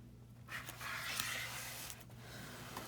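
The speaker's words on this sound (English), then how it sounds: "I'm going to write width here, and I'm going to write wide." Pen strokes scratch across paper during a math lesson, a soft, close rustling and scraping in short bursts, fairly quiet against a faint low hum.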